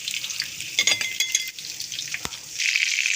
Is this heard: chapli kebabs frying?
yes